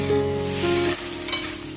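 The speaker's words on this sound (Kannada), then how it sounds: "ಅದನ್ನು ಕೂಡ ಹಾಕ್ಕೊಂಡು ಇವಾಗ ಫ್ರೈ ಮಾಡ್ಕೊತಾ ಇದ್ದೀನಿ" Tomato and ginger garlic paste fry in a pan with a steady, close sizzle, and a utensil stirring through them now and then.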